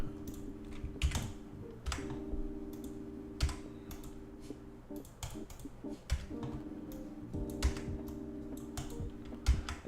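Clicky typing on a computer keyboard runs steadily throughout, irregular keystrokes and occasional louder taps over a faint steady hum, fairly close and with no talking.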